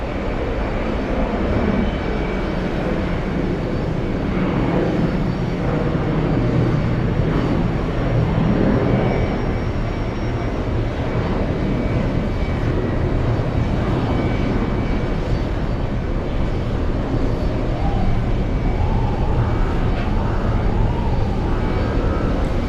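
Big international jet airliners depart JFK airport one after another in a continuous loud engine roar, with rising whines and swells of thrust and no talking.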